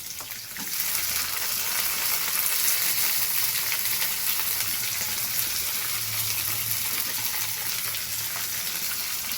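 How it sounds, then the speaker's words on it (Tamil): Onions, tomato, curry leaves, ginger and garlic sauté in a hot pan with a steady, close sizzle that starts abruptly and then holds at an even level, with faint stirring scrapes underneath. "இஞ்சி பூண்டு எல்லாத்தையும் நல்லா வதக்கிக்கணும்."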